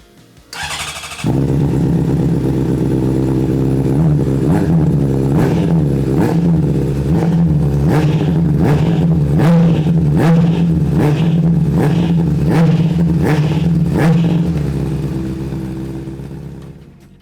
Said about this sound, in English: we can start the engine, let the bike run for a few minutes